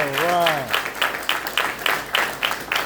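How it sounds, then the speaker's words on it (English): A short burst of clapping from a small crowd at a high school signing day event, right after a voice finishes speaking, with the claps fading in uneven waves. "I think that should be applauded"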